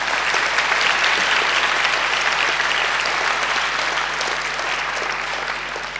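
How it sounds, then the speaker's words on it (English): Sustained, dense applause from a graduation ceremony audience fills the hall, steady and full throughout before easing slightly at the end, with no speech over it. "I think Angela deserves another great round of applause, don't you?"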